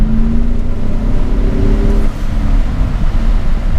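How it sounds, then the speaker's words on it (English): A 2017 Audi SQ7 with an 8-speed gearbox pulls hard through second gear, its engine droning loud and steady close by inside the cabin, pitch climbing slightly before easing. "That was a full second gear pull as well."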